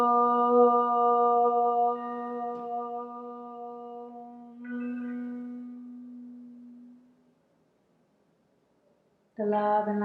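A single voice sustains a long, steady Om chant at the close of a gentle yoga session, the tone shifting to a humming m and fading into silence before another voice begins.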